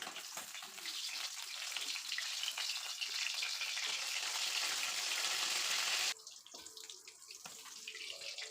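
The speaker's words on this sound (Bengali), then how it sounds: "মাছগুলো উল্টে দিচ্ছি" Rohu fish frying in oil for a kalia makes a loud, continuous bubbling hiss, close by, that abruptly softens partway through, leaving a quieter crackle with a few light knocks.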